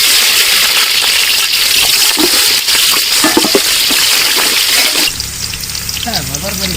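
Beef frying in oil in a village kitchen pan, a steady loud sizzle with stirring scrapes, shifting near the end to a softer hiss under a low hum.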